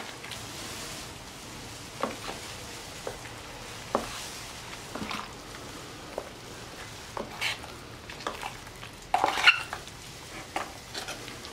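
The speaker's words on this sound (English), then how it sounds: "And you just mix it back and forth." Drywall compound being mixed with water using a 5-in-1 tool makes a wet, scraping churn in repeated back-and-forth strokes, with one louder knock near the end.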